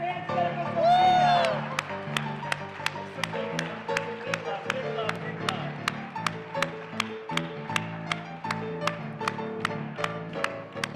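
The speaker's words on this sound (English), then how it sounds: "Clap your hands together for Sofia!" A bat mitzvah party crowd claps in a steady, rhythmic beat for Sofia, sharp evenly spaced claps over festive music, following a brief whoop at the start.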